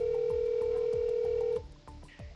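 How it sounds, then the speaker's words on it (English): A phone keypad dials 911, giving a quick run of electronic DTMF tones over a steady dial tone that cuts off partway through, followed by a faint quiet line. "She grabs her phone and dials 911."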